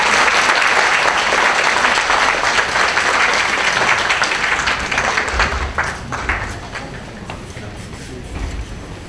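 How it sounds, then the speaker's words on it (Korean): Audience applause welcoming presenters at a Korean government innovation showcase event, sustained dense clapping filling the hall for several seconds and gradually thinning toward the end. "여러분, 발표자분들이 긴장감 떨쳐내실 수 있도록 따뜻한 박수로 맞아주시면 감사하겠습니다"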